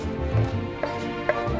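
A knife chopping celery root on a board, with a few light, irregular taps over a steady background of room and cooking noise.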